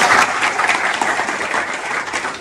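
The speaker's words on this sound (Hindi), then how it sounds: "थैंक यू वेरी मच, जोरदार ताली बजा दीजिए।" Loud applause from a crowd of students at a batch completion session for a CPU remount and components course, dense steady clapping throughout, close and full.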